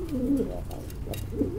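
A pigeon from a loft of fancy show pigeons coos in low, rolling phrases, close and steady, with no talking.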